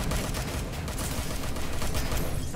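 Rapid automatic turret gunfire in the video game Watch Dogs Legion, a dense, continuous burst of shots that stays loud and steady throughout, with no voices over it.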